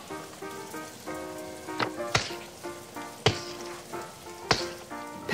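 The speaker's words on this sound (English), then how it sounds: "That sounds like rain, says Peppa." Rain pattering and splashing in a Peppa Pig toy stop-motion play scene, with soft crackly drops under a light musical tone and a few sharp louder taps standing out.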